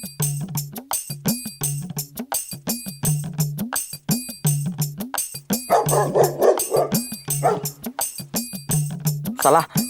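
Several dogs bark in a fast, relentless chain of loud, close yaps, with a person's voice breaking in briefly midway.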